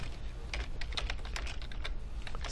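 Fingers typing on a computer keyboard while entering text in an Excel spreadsheet, a quick, quiet run of close key clicks in an irregular rhythm, with no talk.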